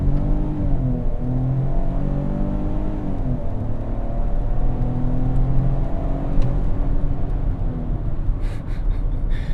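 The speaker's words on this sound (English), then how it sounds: "Full throttle." A Ford Bronco Sport accelerates hard at full throttle, the engine droning loud and steady from inside the cabin, its pitch climbing with brief dips at the gear shifts.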